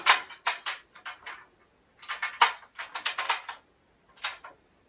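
Ratchet pawls on an embroidery hoop frame clicking as the hoop is turned, quick bursts of close, crisp clicks in several short runs with pauses between, no talking.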